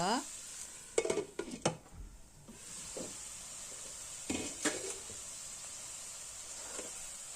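Vegetable fried rice with a spoonful of ghee is stirred in a pan, with a few clattering utensil scrapes over a soft, steady frying hiss.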